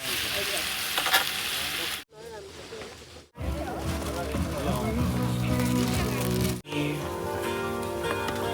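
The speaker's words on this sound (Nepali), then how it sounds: "यहाँ यस्तो हाम्रो दामी बेकन पाक्दैछ" Bacon frying on a cookstove at a campsite on a warm day, a steady sizzle and crackle broken by two brief cuts, with talk and harmonic voices running over it.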